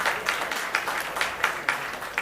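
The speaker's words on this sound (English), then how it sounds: "Go ahead and clap." Audience applause at a film event marking a Toronto and Film City agreement, a steady even patter of many hands with regular louder peaks, moderately distant and without talk.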